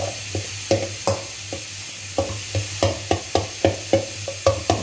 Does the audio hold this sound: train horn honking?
no